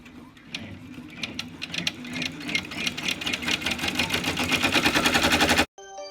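An embroidery machine stitches a pleated fabric face mask in the hoop, a rapid mechanical clatter that speeds into a dense, even rhythm, then stops abruptly, followed by a short whir.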